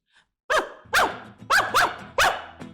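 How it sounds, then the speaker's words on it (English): A dog barks at a chattering chipmunk near a feeding dish, giving about five sharp, loud barks in an uneven rhythm, close by and with no talking. "He barks at a chattering chipmunk who is looking for a leftover tidbit in the feeding dish."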